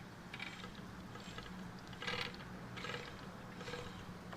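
An RB20-DET short block is turned over by hand, and the main bearings give a faint, rhythmic grinding and clicking that repeats in slow cycles, quiet and close.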